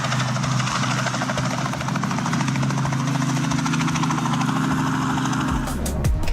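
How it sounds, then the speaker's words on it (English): Loud, steady helicopter rotor thumping and engine drone fill the recording, ending in a brief burst of sharp crackling noise near the end as the helicopter collides with power lines. "A helicopter colliding with power lines looks dangerous."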